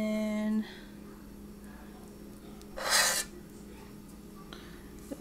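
Spoon or spatula scraping Banana Nutella muffin batter in a pan, a short rasping burst about half a second long, close by, after a brief tonal hum.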